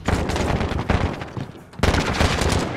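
Rapid automatic gunfire in the video game Call of Duty: Modern Warfare, loud close bursts of shots that break off briefly and then resume, with no voices.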